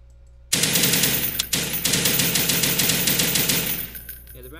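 Browning automatic rifle firing in the video game CtB Frontline: after a moment of quiet, long loud bursts of rapid automatic fire hammer away with a brief gap, then trail off into echoing decay.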